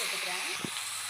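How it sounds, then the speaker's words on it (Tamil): Wet tomatoes hitting hot oil with garlic give a loud, steady hissing sizzle close by, with a brief soft thump partway through, no voices. "சவுண்டு கொஞ்சம் அதிகமாக வரும், தக்காளி ஈரமாக இருக்கும்ல, அதனால தான்."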